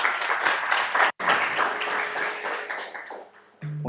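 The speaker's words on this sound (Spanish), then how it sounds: "Un fuerte aplauso, por favor." Audience applause at an economics conference hall, a dense sustained burst of many hands that breaks off briefly, resumes loud and steady, then thins out near the end.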